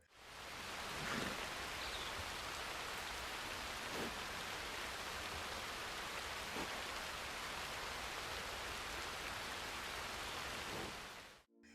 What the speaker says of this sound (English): sitting in my tent while it rains.